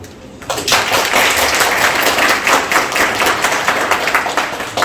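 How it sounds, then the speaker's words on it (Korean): A room of forum attendees breaks into clapping for visiting investors, starting abruptly after a short quiet moment and continuing as brisk, fairly close applause to the end. "우리 한번 박수 한 번만 해줘"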